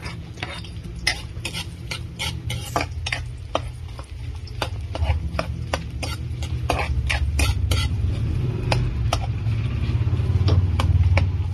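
Onions sauté in a pan for Kapampangan adobong puti, a steady sizzle with a low rumbling bed and frequent sharp scrapes and clinks of a utensil stirring against the metal, close and continuous with no talk.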